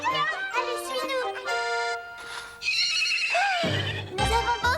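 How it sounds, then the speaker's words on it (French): A horse whinnies in several rising and falling neighs, loud and close, with a voice and hoof clip-clop briefly heard between the calls. "Tu vas avoir ton cheval à toi, comme tu le voulais tant."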